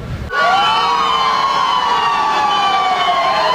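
Fire truck sirens wail during a motorcade of emergency vehicles through Metro Manila, loud and close, with rising and falling tones layered over one another.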